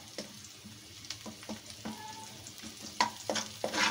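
Meat for aloo gosht fries in a little oil, a close, soft sizzle broken by repeated spoon stirs and scrapes, with no one talking.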